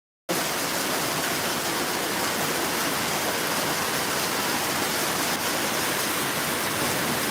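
After a brief silent start, a downpour of heavy rain and hail begins abruptly and keeps up a loud, unbroken rushing hiss close by, with no speech over it.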